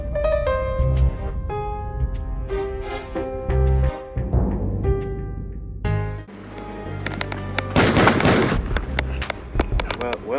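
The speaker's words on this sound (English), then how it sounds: "That was just a gunshot." A sharp gunshot-like bang rings out on a street, standing out from the surrounding noise and people talking nearby.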